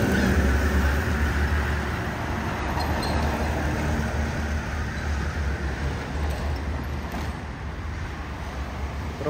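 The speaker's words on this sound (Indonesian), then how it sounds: "truknya mundur." Heavy blue Triton truck rolling backward downhill on a road, a steady low rumble and broad roadside noise lasting throughout, fairly loud and continuous with no clear voices.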